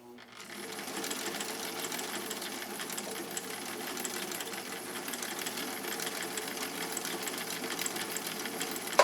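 A sewing machine set to Cam B runs a yellow stitch in one steady, rapid mechanical whir that carries unbroken for several seconds, close by and without speech.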